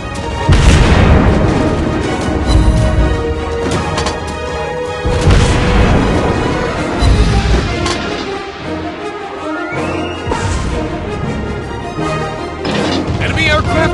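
Ship explosions and artillery fire in the naval combat game Warship Blitz, with heavy booms and blasts rolling on continuously under busy game sound, several loud impacts spaced through the stretch.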